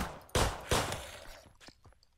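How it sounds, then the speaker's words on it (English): Two sharp gunshots in the zombie train game Zompiercer, close and loud, spaced about a third of a second apart, followed by a few fainter clicks and thuds as the echo fades. "Why don't you not panic shoot and just shoot the guy?"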